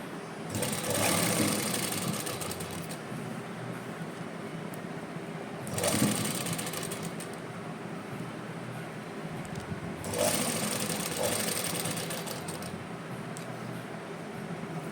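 A sewing machine stitches lace onto a round fabric edge in three bursts of rapid mechanical whirring, each lasting a few seconds with short pauses between, close and moderately loud without any talking.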